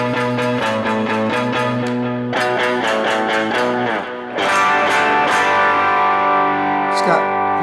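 Electric guitar run through a Neural DSP Quad Cortex octave effect, with rhythmic picked notes thickened by doubled pitches, then a swelling sustained passage, loud and close.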